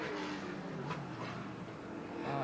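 Sports sedan race cars roar around a racing circuit in a steady, loud engine drone with a rising and falling pitch, sounding moderately near and continuous throughout.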